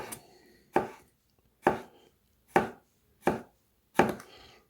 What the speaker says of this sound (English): Let's chop it up a little bit.